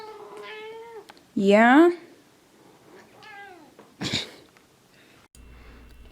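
A cat meows several times in a harmonic, rising-and-falling voice, including one loud drawn-out cry, with brief quiet speech and a sniff-like noise between calls.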